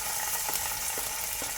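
Green chillies and curry leaves crackle and sizzle steadily in hot oil as a tempering for stuffed brinjal curry, a close, continuous frying sound with small pops.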